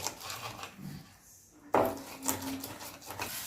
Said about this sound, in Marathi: दहा ते बारा लसणाच्या पाकळ्या बारीक करून आता कुटून घ्यायचे आहेत